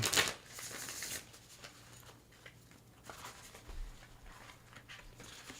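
Close, crisp riffling of playing cards in a quick burst, followed by softer scattered rustles and taps in a quiet room.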